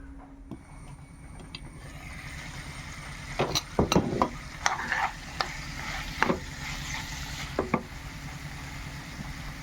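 Aviyal being stirred in a pan with turmeric and crushed coconut, giving intermittent scraping clinks and soft shuffles of a spoon against the pan over a low, steady background, with no talking.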